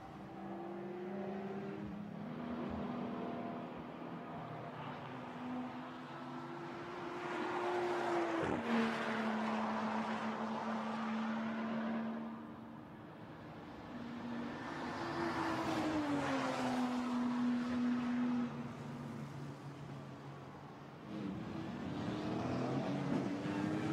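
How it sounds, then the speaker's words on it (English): A Toyota GT4 race car at the Spa circuit in qualifying, its engine note rising and falling through gear changes and revving, heard continuously at moderate distance with no voices. "So the Toyota turns into the right at L'École"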